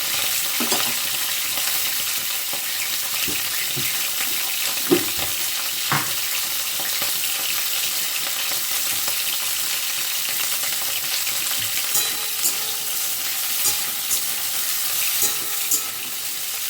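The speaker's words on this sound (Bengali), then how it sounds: "ফুলকপিটা ভাজা বসিয়েছি।" Cauliflower pieces fry in oil in a pan, producing a steady close hiss of sizzling with scattered clicks and light stirring knocks throughout, and no speech.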